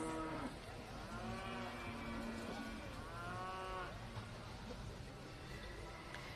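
Cattle moo repeatedly at a rodeo camp, long drawn-out lowing calls from several animals, some near and some farther off, over a busy outdoor background.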